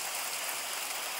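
Hail falling outside a house, a dense, even hiss of tiny ice pellets pattering continuously on surfaces, steady and fairly loud throughout with no talking.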